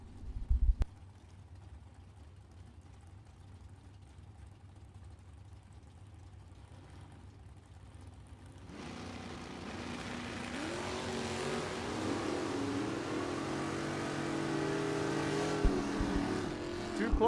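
A 1967 Chevelle and a 1967 Camaro launch side by side in a Super Pro bracket drag race at the U.S. Bracket Nationals; a low, quiet rumble gives way midway to a loud, sustained engine roar that climbs as both cars pull away.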